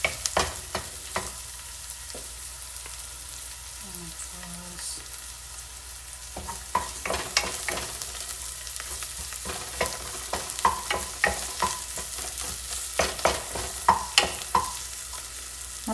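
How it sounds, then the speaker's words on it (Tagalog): Garlic sizzles steadily in olive oil in a pan, with frequent crackles and spatters and occasional stirring scrapes throughout, fairly close and alone. "Hintayin lang po natin mag-brown yung garlic."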